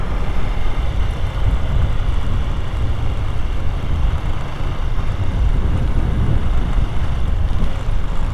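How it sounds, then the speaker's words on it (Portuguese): Strong wind in Palmas, Tocantins, early morning, roaring steadily into the microphone as a loud, unbroken buffeting rush with no speech. "amanhã o vento aqui tá forte"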